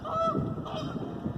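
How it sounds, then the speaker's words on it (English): A flock of geese honks repeatedly as they fly overhead through a forest near wetlands in Salem Town Forest, with clear, moderately close calls layered over one another. "Can't see them through the trees, but there they go flying by. Geese."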